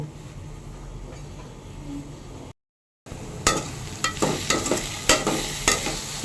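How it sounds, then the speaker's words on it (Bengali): Spice masala for egg korma being fried and stirred in a pan, with a continuous sizzle and repeated scraping strokes of the spoon, broken by a brief silent gap before the stirring resumes louder. "ভালো করে মশলাটা কষিয়ে নেব"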